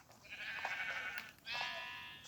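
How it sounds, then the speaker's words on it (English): Sheep on a Minecraft sheep farm bleat twice in quick succession, two drawn-out, wavering calls heard clearly against a soft background hiss. "Here we have my sheep farm"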